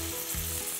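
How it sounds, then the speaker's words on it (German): Marinated pork fillet sears in a very hot pan, giving a steady, close sizzle throughout with no talking. "Und dann kommt das Filet direkt in die Pfanne."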